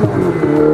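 A Ferrari 488 Pista V8 engine revving on the Fiorano circuit, a short, loud, close burst of engine note with a rising and falling pitch.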